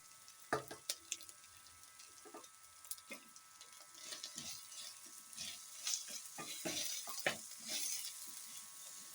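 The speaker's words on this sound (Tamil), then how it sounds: "இப்போது உருளைக்கிழங்கு போட்டு கொஞ்சம் லைட்டாக வதக்குங்க" Potatoes are sautéed lightly in a pan with ginger-garlic paste for a home-style mutton curry, giving a faint, steady sizzle with scattered stirring clicks and scrapes, heard close and alone.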